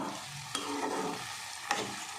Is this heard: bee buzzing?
no